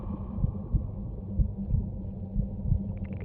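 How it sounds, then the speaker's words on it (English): Minecraft conduit power sound from a video game, a muffled underwater heartbeat: soft low thumps pulse roughly every third of a second over a murky rumbling hum, with no voices. "They also added a new sound for the conduit power."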